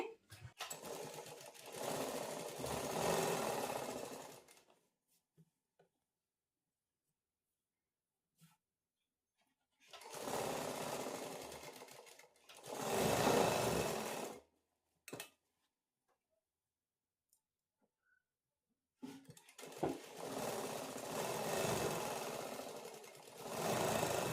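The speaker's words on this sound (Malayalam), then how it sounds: "ഇനി നമുക്ക് ഇത് നേരെ ഒരു അര ഇഞ്ച് ക്യാപ്പിട്ട് സ്റ്റിച്ച് ചെയ്ത് കൊടുക്കാമേ അപ്പോൾ ഡബിൾ സ്റ്റിച്ച് കൊടുക്കണേ" An electric sewing machine double-stitching pieces of a slit pencil-style pant, running in three steady, loud whirring bursts separated by pauses of near silence.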